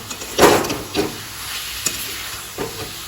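Ambarella fruit stir-fried in mustard oil with mustard seed, salt and turmeric, giving a few near scraping stirs over a soft, steady sizzle, with quiet gaps between strokes and no talking.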